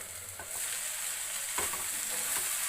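Tomatoes and onions fry in a pan for a butter chicken base, giving a steady, close hiss of sizzling oil throughout, with a few faint scrapes of stirring and no talking.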